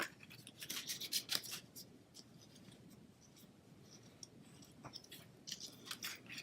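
A bone folder creases a paper card base, giving soft, dry scraping and rubbing strokes in short bursts, close and quiet, with pauses between passes.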